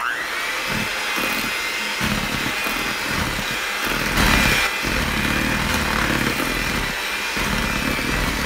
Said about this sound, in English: we're just gonna go ahead and just kind of work with the mixer while we can